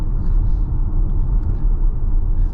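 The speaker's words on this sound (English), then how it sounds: "The instant torque of the electric car." A Tesla Model Y electric car accelerates, heard from inside as a steady low road rumble and tire roar with no engine note, fairly loud and with no talking.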